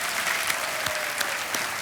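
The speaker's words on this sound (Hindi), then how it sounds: "तालियों के साथ मैं चाहता हूं कि आप सब उनका एक बार फिर स्वागत करें।" Studio audience applause on the Kaun Banega Crorepati quiz show set, a dense steady clatter of many hands, loud and continuous with no voices over it.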